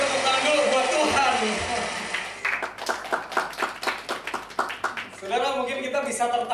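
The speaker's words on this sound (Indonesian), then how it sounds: "Oke, beri tepuk tangan dulu buat Tuhan." Church congregation clapping after a preacher's cue, a run of fairly close, rhythmic handclaps following someone speaking, with talk resuming afterward.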